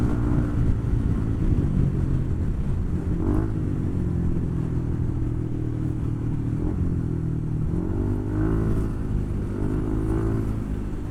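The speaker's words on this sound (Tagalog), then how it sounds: "Medyo madami nga lang motor ngayon." Many motorcycles and cars ride along a busy road near an expressway in Batangas, a steady engine drone with occasional revving surges, no talking.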